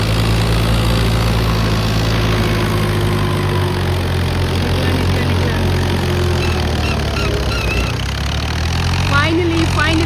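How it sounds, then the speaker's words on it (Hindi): A powerful tractor engine runs steadily at close range, a continuous low rumble with a harmonic drone that holds throughout, with background voices and other activity underneath. "ये बड़ा पावरफुल ट्रैक्टर है।"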